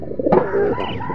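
A pigeon gives a short, low throaty coo close by, with soft rustling in the background.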